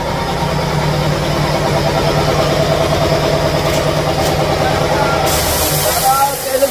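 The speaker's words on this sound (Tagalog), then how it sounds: "Buksan lang natin yung ating mga makina." Boat engines run loud and close in the late afternoon, making a steady, continuous mechanical rumble with voices over it.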